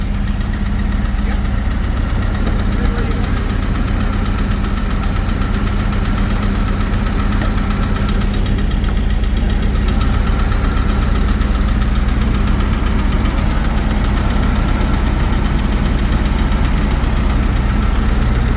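A rusty 1986 Volvo turbo wagon engine, just revived from the dead, idles steadily and loudly up close with a continuous rumbling drone and a faint ticking knock throughout.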